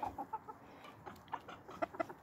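Several young roosters, cockerels kept with a single hen, cluck in short scattered bursts, close by and fairly soft, with no talk.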